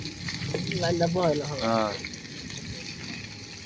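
Koi fish frying in a pan at home, a steady crackling sizzle running throughout with voices talking over it in the middle.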